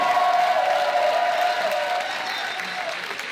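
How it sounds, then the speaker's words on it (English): Convention crowd applauding, a dense, loud wash of clapping with a few faint cheers, fading slightly over a few seconds. "I want y'all to give a big round of applause"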